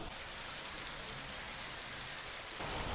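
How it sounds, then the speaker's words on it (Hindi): Heavy stormy rain pouring steadily in Mirpur, a dense continuous hiss that swells slightly louder toward the end. "बहुत तेज़ बारिश हो रही है"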